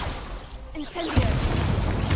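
An Incendio fire spell cast in Hogwarts Legacy: a rising whoosh that bursts into a loud crackling roar of flame about halfway through and sustains to the end, with a voice heard just before.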